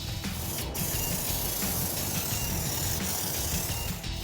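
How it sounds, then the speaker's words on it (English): A steady spray gun hisses continuously while spraying a thick, spackle-like coating, with a rough mechanical sputter underneath and a couple of brief sharper bursts. "It's more like spraying spackle than paint"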